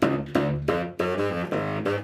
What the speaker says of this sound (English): if you take an instrument that has a long pipe like a bass saxophone